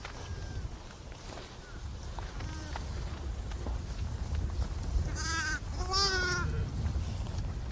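Lambs and sheep bleat on an open pasture at lambing time, with several wavering calls clustered near the end over steady outdoor ambience and soft background talk.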